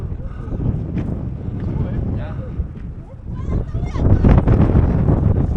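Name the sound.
strong wind on hilltop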